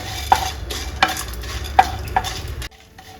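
Chillies and dal sauté in oil for a Tamil drumstick kuzhambu: a steady sizzle carries about four sharp stirring scrapes from a spoon in the pan, then the sound drops abruptly to near silence.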